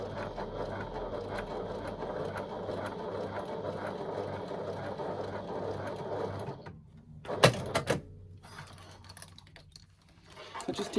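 A sewing machine stitches a strap lined with double-sided tape, a steady close mechanical whir and needle patter that stops abruptly near the end, followed by a few brief clicks and quiet.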